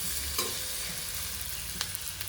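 Okra and eggplant frying in a pan are stirred, with a few scraping stir strokes over a steady, soft sizzle close by.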